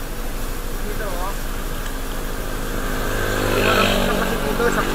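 A motorcycle engine running nearby outdoors, a steady low rumble with a slight rise in intensity toward the end, heard under people talking.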